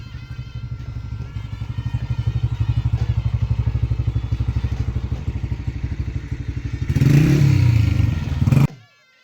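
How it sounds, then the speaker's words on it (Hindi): A motorcycle ridden on a village road in Punjab, Pakistan, its engine thumping in a steady rapid rhythm close by, then growing louder and rougher for a couple of seconds before cutting off abruptly. "हमारे कज़न की जो मोटरसाइकिल है वो पंचर हो गई है"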